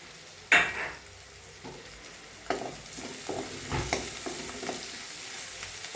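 Chopped onions and minced garlic sautéing in a pan over raised heat, stirred with sharp scraping knocks over a continuous sizzle, close and without talking.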